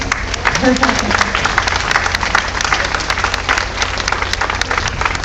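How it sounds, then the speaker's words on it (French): Steady, dense applause from a crowd applauding chefs at a food festival opening, sustained throughout with a few voices and cheers mixed into the clapping. "Vous pouvez les applaudir, ils sont magnifiques."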